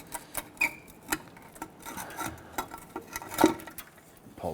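Metallic scrapes, clicks and light knocks as a rear differential cover is pulled off a 2006-2010 Hummer H3, scattered close-up handling noises with no talking.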